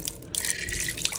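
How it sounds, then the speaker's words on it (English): Water drains out of a glass jar of soaking sprouting seeds, a continuous close splashing trickle with no talk. "Now we're just gonna drain out the water from around these seeds."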